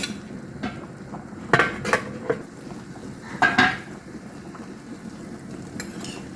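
A lid is set down on a pan of semiya kesari, giving a few sharp metallic clanks and light clatters against quiet kitchen background noise.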